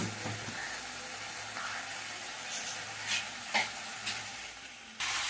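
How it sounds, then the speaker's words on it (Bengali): Taro greens stirred in a hot pan with turmeric and salt, a steady close sizzle running throughout with occasional scraping strokes and a louder burst near the end. "এবারে এটাকে আমি ভালো করে নাড়াচাড়া করে নেব"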